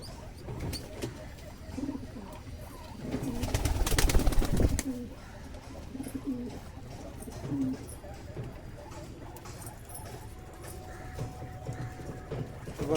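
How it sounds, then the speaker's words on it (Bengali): Pigeons let loose outdoors coo softly and repeatedly, with a short, louder burst of fluttering in the middle against faint outdoor background noise. "দেখুন, পায়রাগুলোকে বাইরে ছেড়ে ভালো করে ভিডিও করে শখ করাচ্ছি।"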